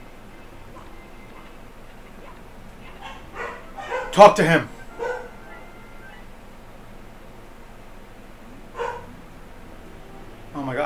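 Dogs bark in the background, a few sharp barks and yips rising above a steady ticking sound and a person talking over them.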